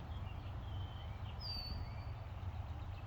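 Faint birdsong drifts in outdoors from a residential porch: a few thin, high chirps and one brief whistle rise over a steady low hum of distant road traffic.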